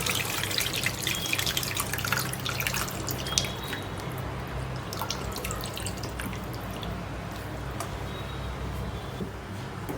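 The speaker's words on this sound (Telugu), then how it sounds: "ఇప్పుడు మనం ఆల్రెడీ పిసికి పెట్టుకున్న చింతపండు పులుసుని దీంట్లో పోసుకుందాం." Tamarind juice is poured into a pan of fish curry, producing a faint, continuous liquid trickle with scattered small drips and splashes over a low background hum.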